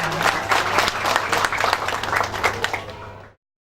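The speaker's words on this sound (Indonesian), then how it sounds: "saudara-saudara boleh tepuk tangan" Congregation applauding at the dedication of a Seventh-day Adventist church in Kayu Putih, Jakarta, a dense burst of clapping that holds steady for about three seconds and then cuts off abruptly.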